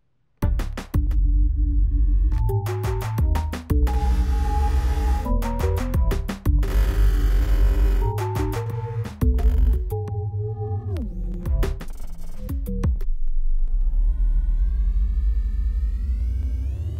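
Teenage Engineering OP-Z synthesizer playing a sequenced pattern through its FRZ master effect, with chopped, stuttering tonal bursts and sustained frozen layers, loud and continuous, ending in a smeared, wavering tail with no talk.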